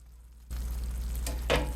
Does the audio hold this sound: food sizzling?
yes